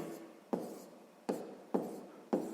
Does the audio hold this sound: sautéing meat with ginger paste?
no